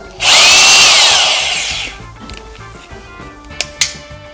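A Bosch GBH 2-28 rotary hammer in drill mode whines loudly for about a second and a half, then winds down, followed by a couple of short clicks and handling noises.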